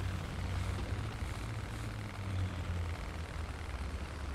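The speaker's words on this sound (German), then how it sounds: "Der Heli hat gedreht." A helicopter in the tank battle game War Thunder drones steadily with a low rotor and engine hum, continuous and fairly distant, with no talk over it.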